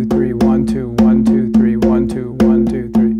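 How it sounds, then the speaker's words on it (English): Hand drum struck in a repeating 3-2 five-beat pattern, sharp resonant hits with a steady ringing tone, close and loud, played alone without talk. "3-2 sounds like this, as a matter of fact."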